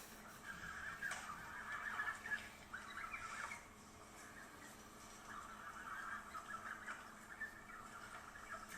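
Hungry ducks squabble and nip at one another outdoors in Washington, giving repeated, fairly faint calls in uneven bursts over a steady low background.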